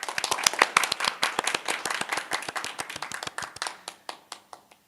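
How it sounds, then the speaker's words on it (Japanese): Audience clapping at a hackathon demo day, with brisk, fairly close individual claps forming a lively burst of applause that gradually thins to scattered, slower claps and fades out over about five seconds. "それではコードフォータさんにもう一度大きな拍手をお願いします"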